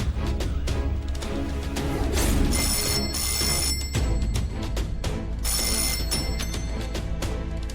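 A landline telephone rings in a home in a Tamil TV serial, its bell trilling in repeated bursts over a dense, steady music background, fairly loud and close.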